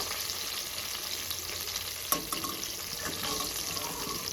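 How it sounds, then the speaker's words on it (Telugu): A tempering of onion and green chillies sizzles steadily in a pan, close and even, with a sharp clink and a few stirring scrapes midway. "ఇది బాగా ఫ్రై చేసుకోవాలి తాలింపు"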